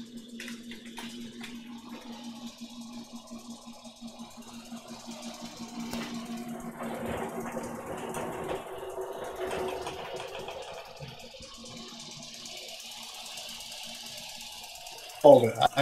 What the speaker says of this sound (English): I can't hear you right now. I'm right by the vacuum pump.